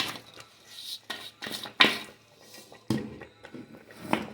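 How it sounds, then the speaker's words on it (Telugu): Jaggery being added to semolina payasam cooked in ghee in a pot, heard as scattered clinks and scrapes of a utensil against the metal pot, fairly close and irregular, with no talking. "నాటు రవ్వతో తయారు చేసిన పాయసంలో నాటు రవ్వ ఉడికింది నెయ్యిలో వేయించి ఉడికించాము బెల్లం వేస్తున్నాము"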